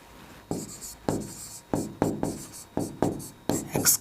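Pen writing on paper while working a Class 10 maths equation, a series of close, rhythmic scratchy strokes roughly every half second, steady and distinct with no talking.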